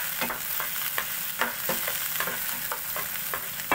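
Garlic and onion sauté for Filipino beef papaitan, sizzling steadily in a hot pan while a utensil scrapes and stirs in regular knocks through the whole stretch, with no one talking.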